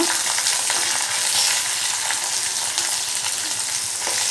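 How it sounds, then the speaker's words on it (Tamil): Garlic and onion fry in a pan for a peanut chutney, with a loud, constant hiss of sizzling oil and occasional light stirring scrapes, no voices. "ஒரு பூண்டு போட்டு அதையும் சேர்த்து வறுத்துக்கலாம்மா"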